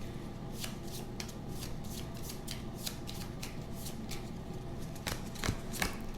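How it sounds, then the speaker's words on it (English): A deck of cards for a DC deckbuilding board game is shuffled by hand, a run of quick riffling bursts in a steady rhythm, close and fairly soft, with no talk. "So we shuffle."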